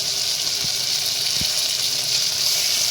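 Ginger-garlic paste and tomato sauté in a pan for potato kurma, giving a steady, loud sizzling hiss with no one talking.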